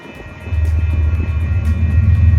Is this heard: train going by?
yes